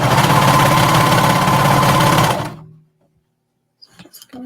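A sewing machine runs a stretch stitch along the edge of a stretchy agility tank top, humming steadily for about two seconds before stopping, followed by a few faint handling sounds.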